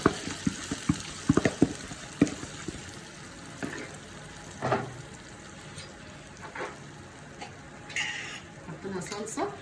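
Tomato juice poured over browned fried onions in a pot, with liquid splashing and bubbling, scattered clinks of a spoon against the pot and a voice speaking over it.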